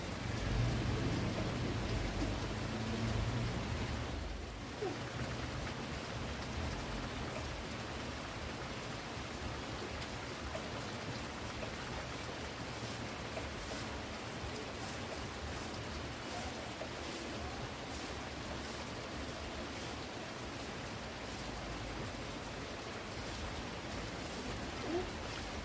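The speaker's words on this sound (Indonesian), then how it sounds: "Cuacanya kebetulan hujan" Steady rain falls and patters on surfaces throughout with a constant hiss. A faint low rumble sits underneath early on, and no one is speaking.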